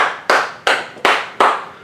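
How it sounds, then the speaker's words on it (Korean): A church congregation claps in unison during a Wednesday evening service, four distinct loud group claps each ringing out briefly in a slow, even rhythm. "우리 하나님께 감사와 영광의 박수를 돌리겠습니다"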